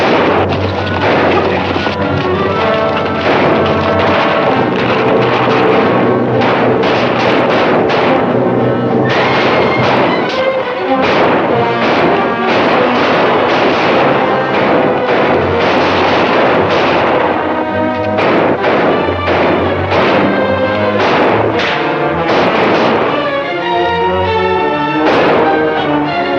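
Rapid gunfire and booming shots from a Western shootout over an ambush on a cash box, loud and continuous throughout with dense overlapping bursts and no talk.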